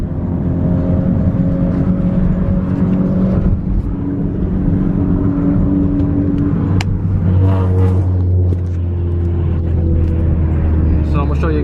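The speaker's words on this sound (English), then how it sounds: "Show you guys just a quick preview of how the Accord is running" A 10th-generation Honda Accord running, its engine giving a steady loud low rumble throughout with a deeper drone swelling in the second half, heard up close with no talking.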